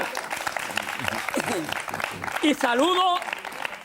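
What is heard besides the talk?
audience applause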